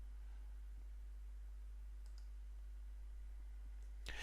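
A single crisp computer mouse click lands near the end, faint and close, against an otherwise quiet background with a low steady hum.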